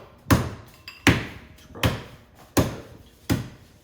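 Beef is pounded thin for braciole with five evenly spaced, heavy thuds about every three quarters of a second. The blows are close and sharp, with quiet gaps between them and no talking.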